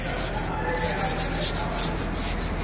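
Steady abrasive rubbing of sandpaper on a Toyota SW4 pickup part, continuous close scraping strokes with a slight rhythmic swell, alone with no talking.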